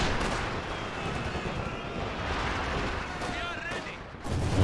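Infantry support guns fire in a Company of Heroes 2 multiplayer battle, a sustained, dense wash of booming gunfire and explosions over the battlefield, rising again near the end.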